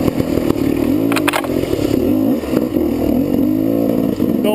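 A GasGas dirt bike engine runs close and loud, holding a steady rasping two-stroke drone with slight wavering in pitch and a brief rattle near the start, no voices.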